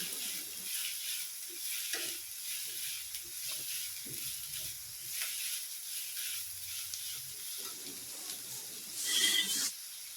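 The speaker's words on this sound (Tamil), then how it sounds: "நல்லா வெங்காயம் வதங்கிட்டு" Onions sauté in hot oil in a pan for an egg fry, giving a quiet, steady sizzle and hiss that swells briefly near the end.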